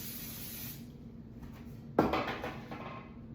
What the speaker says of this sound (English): we're gonna spray the baking pan with the canola oil